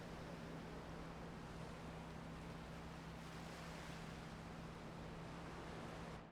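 Steady broadband wash of surf rolling onto a beach in a driving and flying video game, continuous and fairly loud with a low steady hum beneath, no voices.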